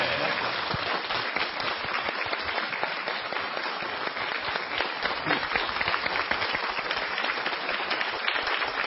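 An audience at a lecture breaks into sustained applause, many hands clapping in a dense, even wash that continues at a steady level throughout.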